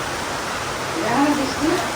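Heavy rain falls in a steady, dense hiss close by, with a faint voice briefly surfacing over the downpour.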